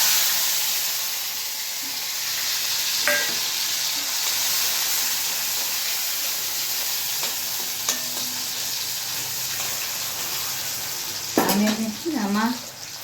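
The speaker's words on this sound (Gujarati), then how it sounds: "ટમેટા અને ડુંગળીનો વઘાર થઈ રહ્યો છે." Tomato and onion sizzle in a pan of hot oil tempering for a vegetable curry, a steady close hiss with occasional stirring clinks, and a voice breaks in briefly near the end.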